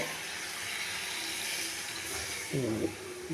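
Lukewarm water hits a hot pan of paneer curry and sets off a continuous close hiss of steam, which swells slightly near the end with a brief bubbling flutter.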